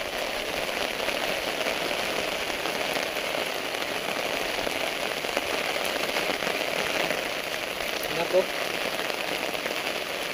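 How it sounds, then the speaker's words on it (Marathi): Heavy monsoon rain pours steadily over a rocky plateau during a crab hunt, a dense, even hiss that carries on for the whole stretch with no pauses. "पाऊस मरणालाच पडलाय"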